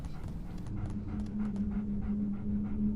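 A dog in a Game of Thrones video game pants and whimpers close by, with a steady low hum of game sound beneath it and no talking.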